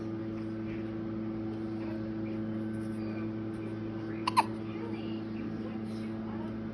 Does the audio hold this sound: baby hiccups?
yes